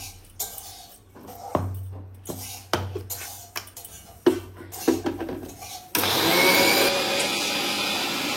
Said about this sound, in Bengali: মিক্সিতে পিষে নেব।